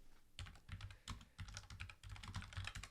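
Rapid typing on a computer keyboard, close and fairly faint, with bursts of quick clicking keystrokes broken by short pauses.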